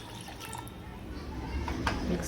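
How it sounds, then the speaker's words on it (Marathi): Water is poured into a pot of bombil fish curry being cooked, a soft liquid splash and trickle under a quiet background. "हे थोडं शिजल्यानंतर यात पाणी घालायचं"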